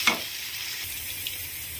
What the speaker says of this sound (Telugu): 1½ టేబుల్ స్పూన్ వరకు అల్లం వెల్లిగడ్డ పేస్ట్ యాడ్ చేసి మంచిగా వేయించుకుందాము.